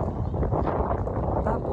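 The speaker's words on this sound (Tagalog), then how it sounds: "Mga hangin, matunog ng alon dito sa may ilog." Wind rushes across a river with the sound of small waves lapping. A brief, continuous, close roar of gusting air buffets the microphone.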